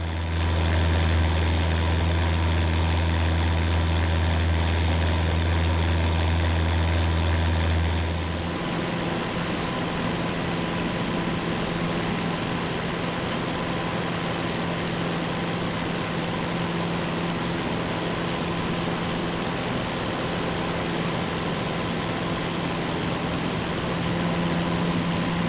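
A Cessna 172 engine as simulated in Microsoft Flight Simulator 2024 and X-Plane 12 drones steadily: a loud propeller hum with strong low tones for about eight seconds, then a changed, rougher and flatter engine roar continues to the end.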